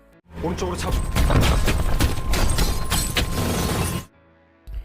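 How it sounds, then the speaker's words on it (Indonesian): A bus stop's glass panel shatters from a gunshot in a zombie film scene, a loud dense crash that spreads and sustains for several seconds before cutting off abruptly. "Kaca pun pecah"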